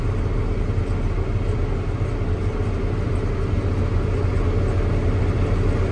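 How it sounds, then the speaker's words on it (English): A John Deere 7810 tractor drives along a road, its engine giving a steady, close, low droning rumble without let-up and with no talk over it. "You're driving a big tractor."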